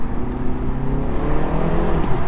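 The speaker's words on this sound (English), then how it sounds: "There's like actual noise coming out the rear end of this car, even though it's a 2020 4-cylinder turbo." A 2020 BMW 330i Touring four-cylinder turbo engine revs and burbles through its exhaust at close range, a loud low rumble that rises slightly in pitch, with no voices.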